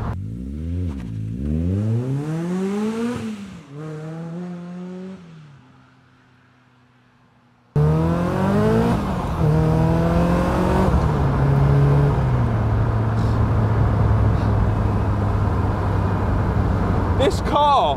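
A supercharged Caterham Seven 620S sports car roars through rising gear pulls, engine note climbing then dropping at each shift, a brief lull, then a loud, sustained hard acceleration close by with a whining supercharger.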